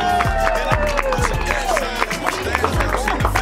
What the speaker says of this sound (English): If we can give Elaine a round of applause